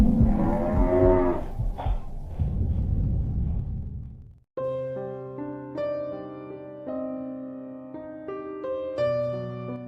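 Cattle on a farm moo in a couple of long, loud, nearby calls over the first few seconds, after which sustained background music takes over.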